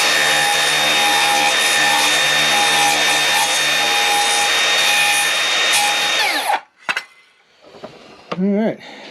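A hand plane's blade shaves wood in a continuous, loud scraping cut for about six seconds, then stops abruptly, leaving a few brief knocks and a short burst of voice near the end.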